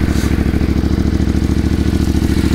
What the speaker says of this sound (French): vous entendez que la sonorité donc d'origine de l'échappement d'origine